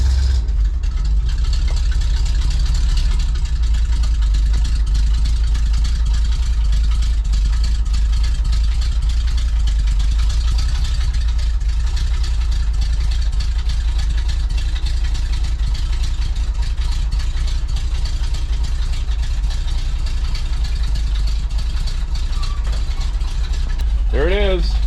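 A 1971 GMC C60 dump truck's engine idles steadily throughout, a constant low rumbling chug close by, with someone talking over it for much of the time.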